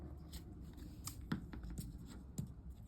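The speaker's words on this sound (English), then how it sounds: "I'm gonna cut this in a diagonal." Scissors snipping paper on a diagonal, faint close crisp cuts and a few sharper clicks over a quiet background.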